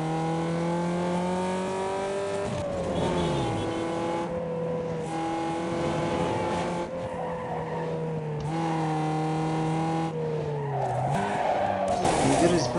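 A race car in Need for Speed Underground 2 drives hard, its steady engine drone shifting pitch with gear changes as tires squeal and skid through corners, loud and continuous, with some talk underneath.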